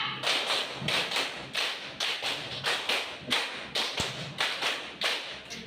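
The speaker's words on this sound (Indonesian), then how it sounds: "Tepuk lima kali tiga." A classroom of students claps hands together in a counted pattern of five groups of three, sharp unison claps repeating in a steady rhythm with brief gaps between groups, fairly loud and close in a room.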